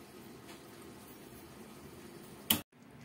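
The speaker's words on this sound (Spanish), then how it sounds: "Se deja que hierve y se apaga" Bolognese sauce simmering in a pot for spaghetti, a steady low bubbling and gurgling that runs unbroken, then a brief sharp clatter and a sudden cut as the heat is switched off.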